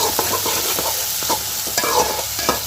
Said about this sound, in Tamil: இப்போ வெங்காயத்தை நல்லா வதக்கிக்கலாம்